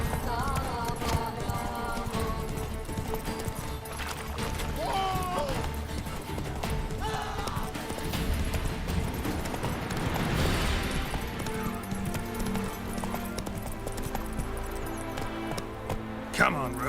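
Hoofbeats of Roach, a horse in the video game Witcher 3, galloping steadily under game music and a voice, with a brief whinny partway through.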